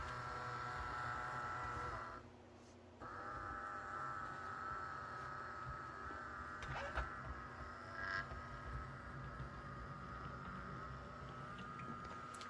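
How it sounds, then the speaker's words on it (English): Gear whine from an Athearn Blue Box model locomotive running, a steady close mechanical hum with a sustained tonal drone, briefly dipping then resuming smoothly with a few faint clicks. "all you're really hearing right now is the gears of an Athearn Blue Box"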